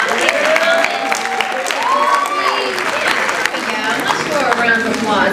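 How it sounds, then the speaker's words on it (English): A high school auditorium audience applauds steadily at a STEM program event, loud continuous clapping with crowd murmur and voices woven through it. "Let's throw a round of applause"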